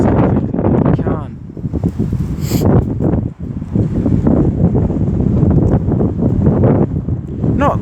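Strong wind at Birmingham Moor Street railway station, a loud continuous roar buffeting the microphone close up throughout, with a person talking over it.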